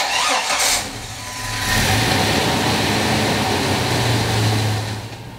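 A Jeep TJ engine cranks and catches after an alternator replacement, then settles into a loud, close idle with a mild rise in revs.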